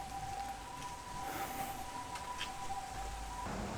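An ambulance siren in Japan holds steady high tones over rain and street noise, cutting off near the end.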